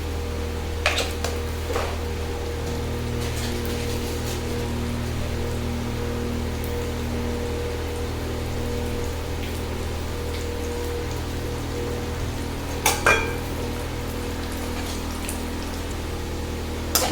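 Cashews and raisins frying in oil for sakkarai pongal, a steady fine crackling sizzle with a low hum underneath and a few utensil clinks, close and continuous.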